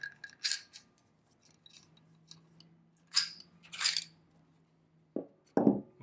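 Metal clicks and scrapes as the slide of a Taurus 1911 pistol is worked off the frame by hand. The brief, crisp sounds fall in short clusters and are followed by a duller clack near the end.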